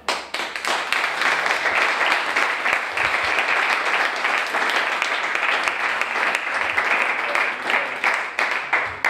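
An audience at an institutional reception in Sant Vicenç dels Horts breaks into sustained, even applause that runs close and loud for about nine seconds.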